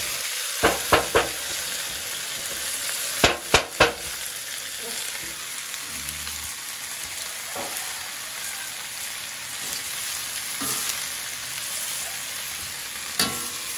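Baguio beans frying in a pan, a continuous sizzle broken by sharp clanks of a utensil stirring against the pan, a quick cluster early, another around three seconds in, then a few scattered knocks.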